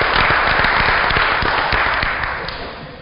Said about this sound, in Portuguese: Recebemos aplausos!